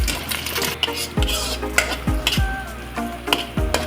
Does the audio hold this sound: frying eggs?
yes